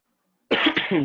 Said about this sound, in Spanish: me van a escuchar toser seguido